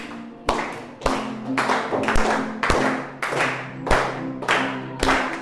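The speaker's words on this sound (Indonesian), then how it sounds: "Ayo sama-sama tepuk tangan dong." Rhythmic hand clapping during a group song with guitar at a classroom teaching session, sharp claps about every half second to second, steady and close, with a sustained guitar tone underneath.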